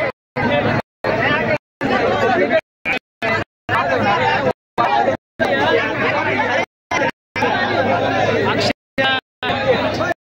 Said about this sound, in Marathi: जबरदस्त गर्दी।